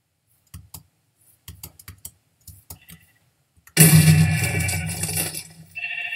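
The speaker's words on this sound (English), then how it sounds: "So let's go get those sheep." Sheep bleat in the video game Minecraft: scattered soft keyboard clicks give way to a loud, sustained bleating burst that carries on for about two seconds, then a fainter tail.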